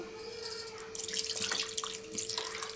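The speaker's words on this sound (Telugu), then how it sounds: "నేను ఒక గ్లాస్ పోసాను వాటర్." A glass of water is poured into a pot of Telugu-style fish curry (chepala pulusu), a close, steady splashing pour lasting a couple of seconds with no talking.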